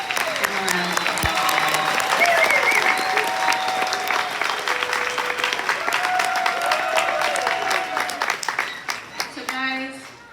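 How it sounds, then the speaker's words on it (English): A crowd applauds graduates at the Charter College Pasco 2024 graduation, with dense, loud clapping that swells and then fades, while voices call out and speech comes through over the noise. "Give them a round of applause."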